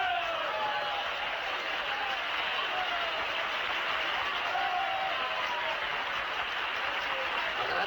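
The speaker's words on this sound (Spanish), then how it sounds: "Agradezco estos aplausos tan desnutridos, a la par que merecidos" Steady, dense applause from a live audience at a comedy speech in Spanish, continuous and even throughout without breaks, filling the room at moderate level.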